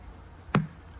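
A faulty JBL amplifier in a Ferrari 458 gives a single short, dull boom through the car's speakers, a lone thump standing out from a quiet background.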